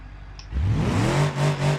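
Engine of a Zeta crawler car in BeamNG.drive, held in fourth gear by a faulty automatic shifter, rises from a low idle into a strained, climbing drone that then levels off and holds fairly loud.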